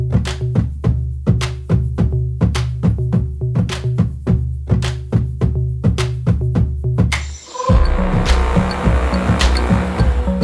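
A 4x4 vehicle on a sandy desert road near Sossusvlei, Namibia, gives a regular series of rhythmic engine thumps that gives way to a louder, rougher, continuous driving rumble near the end.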